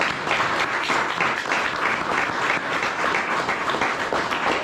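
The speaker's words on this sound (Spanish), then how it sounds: "Denle un aplauso al Señor." Sustained applause from a church congregation, loud and even throughout, a dense wash of clapping with no talking.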